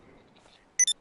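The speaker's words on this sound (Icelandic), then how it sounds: "Hver með vekjaraklukana?" Alarm clock going off in the video game GTA, two short bright electronic beeps in quick succession after near silence, fairly close and clear.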